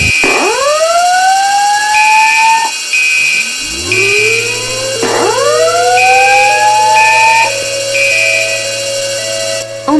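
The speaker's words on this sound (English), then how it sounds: "Oh my god. Fire alarm." Several loud alarm tones overlap and rise in repeated siren-like sweeps, joined by a steady high beeping and a low sustained drone, continuous across the whole stretch with no voices.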